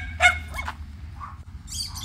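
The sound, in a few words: dogs barking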